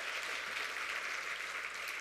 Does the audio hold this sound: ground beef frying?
no